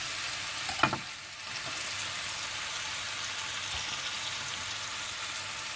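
Chicken breast fillet fries in rapeseed oil with a steady, moderately loud sizzle and hiss throughout, broken by a brief clatter near the start.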